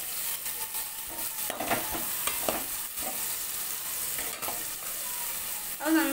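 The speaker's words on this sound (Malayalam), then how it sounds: "ഒരു ഉള്ളി, ഒരു സവാള അതിലേക്ക് ചേർക്കുക. നന്നായിട്ട് വഴറ്റിയെടുക്കുക." Chopped onion sautés and sizzles in a hot pan for chilli chicken, with a steady close crackle broken by repeated scraping stirs.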